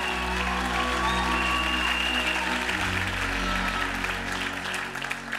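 A church congregation applauds for a visiting bishop at a gospel festival service, a steady roar of clapping with sustained music tones beneath it throughout.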